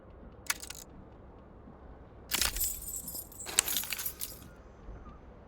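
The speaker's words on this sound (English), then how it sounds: "Keys are clinking in the pocket of your flare-cut pants." Keys on an aluminium keyring clink in a trouser pocket in Disco Elysium, heard as three short bright jangles, with the longer ones in the middle, close and clear over a quiet background.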